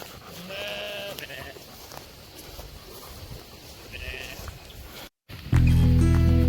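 Sheep bleat a few times in the open, with a loud, close bleat near the end over steady outdoor noise.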